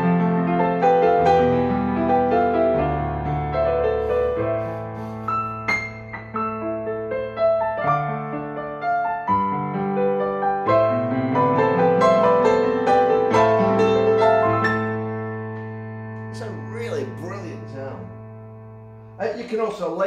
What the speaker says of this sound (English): So let's get this piano going, and it sounds like this.